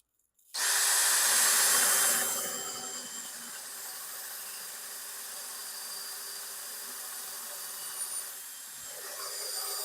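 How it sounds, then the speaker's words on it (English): A drill with a Kreg concealed hinge jig starts abruptly and bores a hinge hole steadily for several seconds, a sharp whine at first settling into a constant grinding drone, close by. "So we're going to go ahead and drill our hole."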